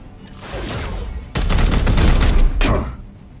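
Gunfire in the video game Warhammer 40k Chaos Gate Daemonhunters, loud rapid bursts of shots and a sharp final blast, close and dense, with no talk over them.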